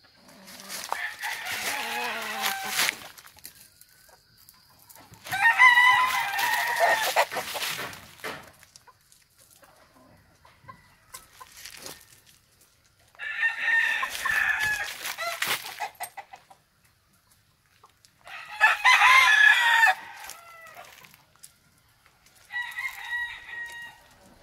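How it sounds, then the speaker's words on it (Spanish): Chickens and roosters cluck and crow on a farm, with loud bursts of calling separated by quieter gaps, including drawn-out crows, repeating in several waves. "Ese es otro pollo, patrón."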